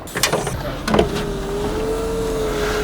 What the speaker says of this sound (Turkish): Camı da açayım